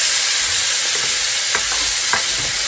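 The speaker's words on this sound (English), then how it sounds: "I'm going to scrape the bottom of that pan" Curry turkey wings with garlic frying loudly in oil, a dense continuous sizzle close by, with a few spatula scrapes against the pan bottom cutting through.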